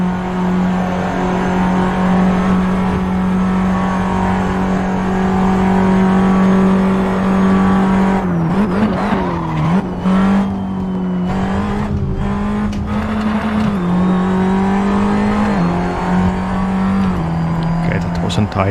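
A race car lapping in Assetto Corsa, its engine droning steadily at high pitch, then dipping and surging through gear changes and braking, loud and close throughout.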